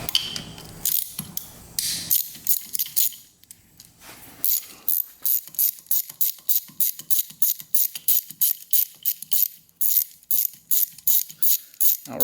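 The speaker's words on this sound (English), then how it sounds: "Looks like it just has a couple Allens holding on the cylinder here." Rapid clicking of a ratchet loosening Allen bolts on a three-wheeler's cylinder during an engine rebuild, a few bursts of clicks then a long run of evenly spaced strokes, close and loud.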